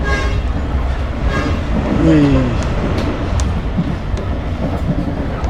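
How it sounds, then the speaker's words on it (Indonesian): A passing CPO freight train runs alongside a moving Sribilah Utama passenger train near Medan, giving a steady rumble with rail clatter and a brief squeal, while a voice exclaims once over it. "Nah ini muncul kereta CPO tuh di samping."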